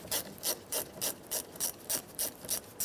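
A ratchet loosens the 10mm positive battery terminal nut on a 2011-2018 Ram 2500, giving about ten even bursts of close, crisp clicking at a steady back-and-forth rhythm, with no talking.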